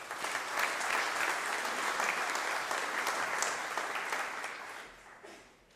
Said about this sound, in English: give Jim a big round of applause